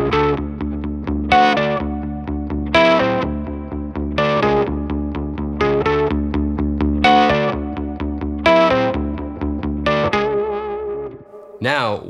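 A fuzzy, distorted guitar through the octave fuzz of a Silverfish pedal plays a rhythmic riff of repeated chords, with a buzzy upper-octave edge, ending in a warbling, bending note.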